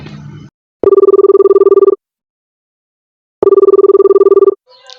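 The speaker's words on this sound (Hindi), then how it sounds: "दोबारा इसको फोन करता हूँ।" Phone ringback tone while redialing someone, two long buzzing rings separated by a pause, with a bit of sound just before and after.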